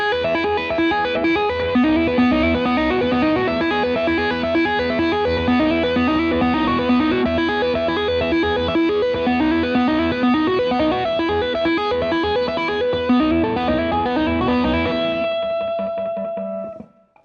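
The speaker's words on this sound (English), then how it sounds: "With distortion now, here's what that section sounds like. I'm going to play a little faster." Electric guitar lead melody played fast with heavy distortion and effects, bright sustained notes running continuously at high level before ringing out and cutting off near the end.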